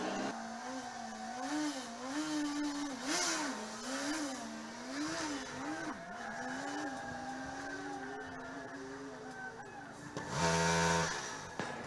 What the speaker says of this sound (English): I can hear the engine going.